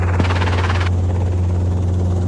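Robinson R22 helicopter with a loud, close, steady rotor and engine drone and a constant low hum, unbroken and with no talk.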